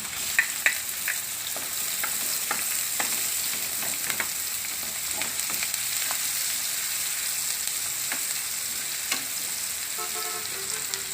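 Sliced onions fry in hot oil in a pan with ginger and garlic, giving a steady, even sizzle that runs throughout, dotted with faint crackles and light clicks.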